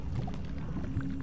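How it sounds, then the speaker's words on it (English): Waterfall in a video game, a steady low rushing of falling water heard close and continuous for a moment, with no talking. "Can I go through the waterfall?"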